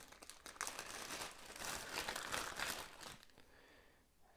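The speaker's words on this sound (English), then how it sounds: "Okay, we've got a plastic bag with," Faint crinkling of a plastic bag pulled from a Black & Decker CS1250L-GB circular saw box, a soft rustling stretch of a few seconds, close but quiet, with no talk.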